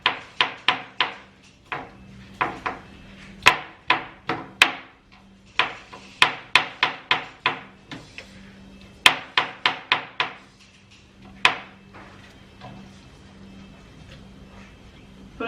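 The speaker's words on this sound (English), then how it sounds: "I'll cut it into smaller pieces." Sharp chopping strokes of a knife on a cutting board as ingredients are cut into smaller pieces for a blender, about two dozen close, crisp knocks in uneven bursts with short pauses between.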